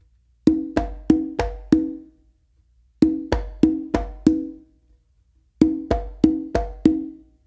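Congas in a slappy three-drum exercise: palm closed slaps and open tones in three quick bursts of five hits each, separated by short pauses, played close and unaccompanied.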